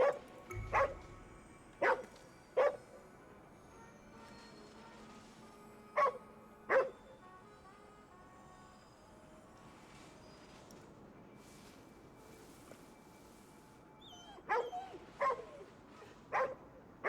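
Dogs barking in the video game GhostWire: Tokyo, sharp separate barks and yips arriving in short bursts with long quiet gaps between them, moderately loud over a faint background hum.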